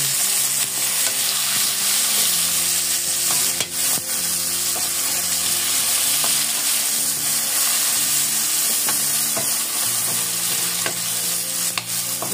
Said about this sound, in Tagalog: So, pwede na yung bawang sibuyas ilagay.